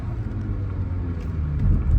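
A Nissan Altima pulls hard to pass on the road, its engine rumble swelling and growing louder toward the end, heard from inside the car with no talking.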